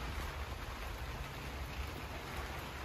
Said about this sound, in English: I apologize for the noise. It is raining right now.